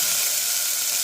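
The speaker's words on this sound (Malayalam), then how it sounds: "നന്നായി ഇളക്കി വഴറ്റുക." Chopped onions sizzle steadily in a hot pan while being stirred and sautéed, a constant close hiss with no talk.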